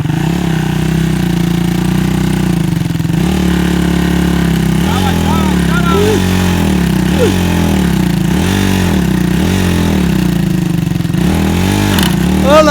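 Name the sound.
motorcycle engine running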